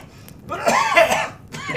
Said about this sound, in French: La quinte de toux fut si forte